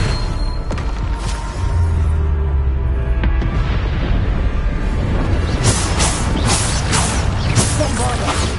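A Bombarda blasting spell from Hogwarts Legacy goes off in a game fight, a deep booming thump followed by crackling debris bursts and rumbling impacts, loud and dense throughout.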